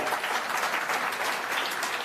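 Audience applause at an AAP town hall addressed by Arvind Kejriwal and Bhagwant Mann: a dense, steady wash of clapping from a large crowd that holds even and loud throughout.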